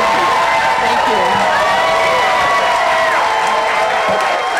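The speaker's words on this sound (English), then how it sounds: "some applause now for Tracy Baim and her 35 years" A large audience claps and cheers loudly and continuously at a community celebration event in Chicago, a dense steady wash of applause with scattered whoops.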